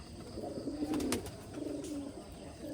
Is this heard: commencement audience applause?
no